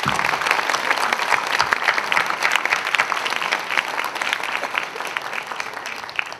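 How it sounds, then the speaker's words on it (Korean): A large audience at a Korean church student movement retreat gives encouraging applause, a dense and steady wash of clapping from many hands that holds strong throughout and fades slightly at the end. "우리 격려의 박수 한번 하도록 하겠습니다"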